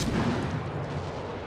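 Warship guns in World of Warships fire as a dense, continuous low rumble of heavy booms, loud and steady through the whole short stretch.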